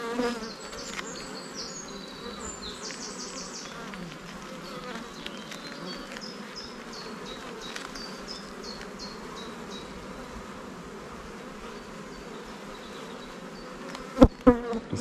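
Honeybees buzz around an open production hive: a dense, continuous close-up hum with individual bees passing near, and a couple of sharp knocks just before the end.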